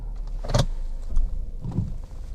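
A push-button start car in park cranks and fires up, a short whirr and mechanical clunk followed by a settling low engine hum, fairly close, with no voices.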